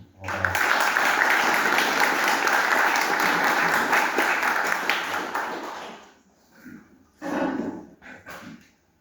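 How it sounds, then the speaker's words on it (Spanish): An audience at a book presentation for "Lima: Ciudad de los Reyes" applauds the author, with loud, full clapping lasting about six seconds before it fades to scattered, quieter claps. "Un aplauso por favor."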